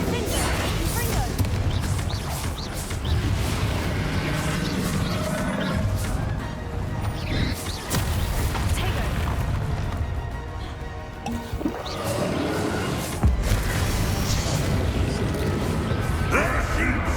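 Bombarda spell blasts in a wizarding action game crack and crash through a dense, loud battle soundscape, with sharp bursts and clattering debris over continuous effects, and spoken lines in between.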